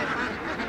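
Ducks quacking at a wholesale duck trade at a Bangladeshi village market, a brief burst of nasal calls amid busy crowd murmur.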